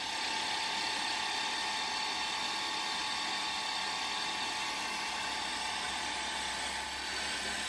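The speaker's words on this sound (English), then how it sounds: "So I'll drill the hole now, and then we'll move it on." A steady, high-pitched whine of a power drill running continuously at close range, unbroken for the whole stretch.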